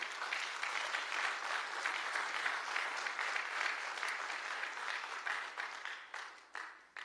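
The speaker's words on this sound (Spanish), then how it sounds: "Aplauda al Señor." Church congregation clapping together during a sermon, a sustained broad wash of applause at moderate distance that thins out toward the end into a few scattered claps.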